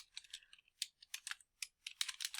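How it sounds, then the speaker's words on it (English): Someone types on a computer keyboard, quick irregular bursts of crisp clicking key taps, close and quiet, with short pauses between the runs of keystrokes. "here I'm going to start typing"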